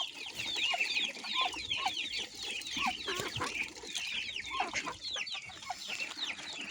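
Young native chicken chicks, about a month old, cluck and peep busily at backyard feeding time, a steady chorus of high chirps with lower clucks mixed in, close by and continuous.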